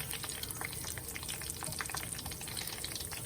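Chicken fries deep frying in hot oil, a steady dense crackle and bubbling hiss that runs continuously and close without pause.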